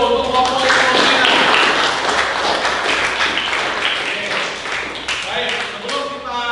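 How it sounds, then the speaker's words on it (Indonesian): A classroom group called Ibnu Sina receives a round of applause during a teaching performance session, brisk clapping that starts loud and tapers, with voices talking over it. "Beri tepuk tangan yang meriah dulu untuk kelompok Ibnu Sina"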